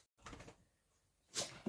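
A short, sharp sneeze-like burst near the end, after a quiet stretch and some soft earlier sounds.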